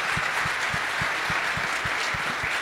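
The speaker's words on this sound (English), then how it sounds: "maybe just a quick round of applause as we close out" A quick round of applause from attendees as a session closes, a steady wash of clapping over the whole stretch with soft rhythmic low thumps underneath.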